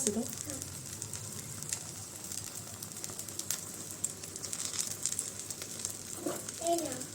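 Noodles sizzle and crackle steadily in a hot frying pan as they are spread out with a utensil, a soft continuous hiss with occasional scraping, fairly quiet and close.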